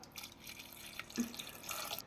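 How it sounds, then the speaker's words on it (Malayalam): Water poured into a pan of ripe mango pulissery curry, heard as a short run of drips and a brief splash, faint and close, with no talking. "ഇതിന് വേവാനുള്ള വെള്ളം ഒഴിച്ചു കൊടുക്കാം."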